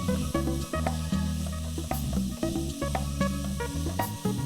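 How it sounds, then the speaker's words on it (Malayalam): Onion sautés in hot oil with garlic and green chilli in a pan, giving a close, continuous sizzle over a steady tonal hum, with brief breaks and small pops. "ഈ ഉള്ളി വഴറ്റുന്നതിൻ്റെ കൂട്ടത്തിൽ തന്നെ കുറച്ച് വെളുത്തുള്ളി, പച്ചമുളക് എരിവ് അനുസരിച്ച്"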